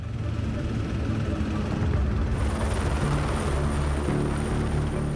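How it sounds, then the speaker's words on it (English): A helicopter carried aboard an icebreaker ship drones with a loud, continuous rotor and engine roar that holds steady throughout, a thin high whine joining partway in. "a helicopter"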